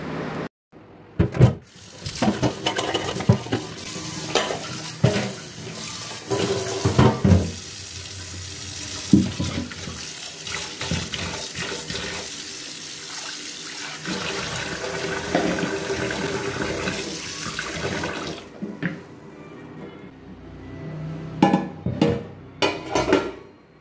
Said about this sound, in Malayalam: ജസ്റ്റ് ഇതിലൊന്ന് വെള്ളമൊഴിച്ച് വയ്ക്കുകയാണ്.